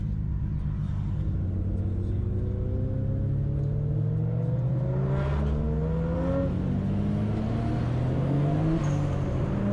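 Nissan R32 Skyline GT-R in right-hand drive on a highway, engine note climbing steadily under acceleration with rising harmonics and a shift near the end, heard from inside the car as a constant loud rumble.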